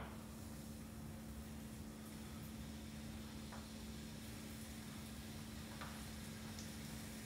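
Pork chop nuggets fry in a pan at a light, steady boil, giving a faint, even sizzle throughout with a low hum underneath and no talking.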